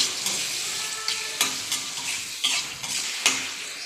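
Chopped tomato sizzles in hot oil for a sabudana khichdi while a spoon stirs it around the pan, with steady close frying and several sharp scraping clicks against the metal.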